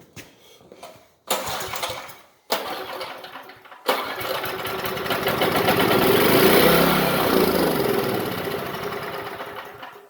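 A Power Pak 2500 watt generator's small engine is pulled over twice in short cranking bursts, then catches and runs loud and close, its rattling idle swelling and then easing slightly.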